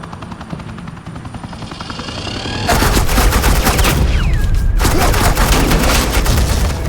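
Suppressing gunfire in the video game Batman: The Enemy Within, a loud, sustained burst of rapid automatic fire that erupts suddenly after a quieter opening and continues alongside helicopter-like rotor noise.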